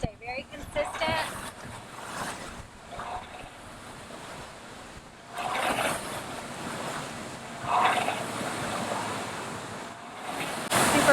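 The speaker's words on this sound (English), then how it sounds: "Super windy." Strong wind buffets the microphone in rough, roaring gusts that rise and fall throughout, with no clear speech over it.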